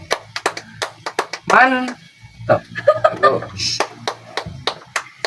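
Hands clapping during a podcast conversation, sharp close claps in quick bursts at the start and end, with a burst of laughter and a spoken word in between.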